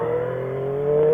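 A Triumph 675 motorcycle engine on a track screams in a steady high-revving tone that climbs slightly at the end while the bike accelerates in a wheelie.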